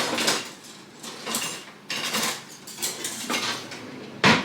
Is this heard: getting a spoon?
yes